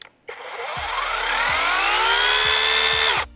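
Sequoia cordless brushless mini chainsaw switched on at higher power, winding up smoothly into a loud, steady high whine that holds for a few seconds, then cuts off abruptly, close and alone.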